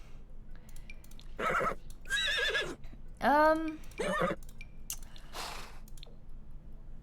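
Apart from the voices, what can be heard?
horse neighing in a Sims video game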